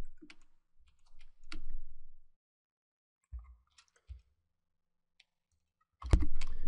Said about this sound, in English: I'll click in the search bar and begin typing.